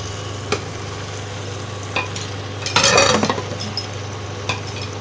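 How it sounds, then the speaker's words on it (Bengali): Fried mutton is stirred into a pan of spices, giving a low, steady sizzle with a brief scraping and clinking burst midway and a few soft taps. "এইবারে ভাজা মটনগুলো এবার আস্তে আস্তে দিয়ে দিলাম।"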